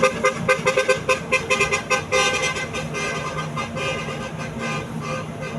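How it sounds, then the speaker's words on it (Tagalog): Car horns honk repeatedly in short bursts over steady road traffic noise at a roadside eatery stop in Masbate, loud and close, with no talking. "Papansin yung mga ganong busina."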